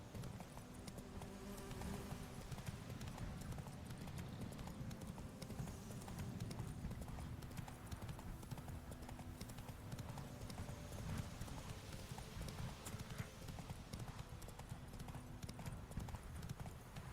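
Galloping horse hooves from the video game The Witcher 3, the horse Roach running in a fast, continuous rhythmic clatter for the whole stretch, with faint game sounds beneath and a little background voice.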